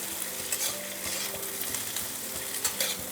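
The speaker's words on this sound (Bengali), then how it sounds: "নেড়ে ছেড়ে নিতে হবে হিটটা একদম মিডিয়াম টু লো রাখবেন" Cooking for an egg korma fries in a pan over medium-low heat as it is stirred, giving a dense continuous sizzle with repeated scraping strokes throughout, near and steady, no voices.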